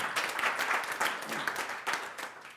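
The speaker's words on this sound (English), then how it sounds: "One more big round of applause for what they're doing." A crowd at a startup networking event gives a round of applause, a continuous patter of many hands clapping, moderately loud and steady for a couple of seconds with a faint murmur of voices beneath.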